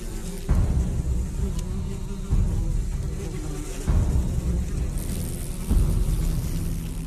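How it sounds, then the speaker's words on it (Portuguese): Yellowjacket wasps buzz in a dense, continuous drone as a squadron lifts off from their nest, loud and near, the hum swelling in several pulses over a low rumble. "Um esquadrão amarelo levanta voo, deixando as sentinelas defendendo a colmeia."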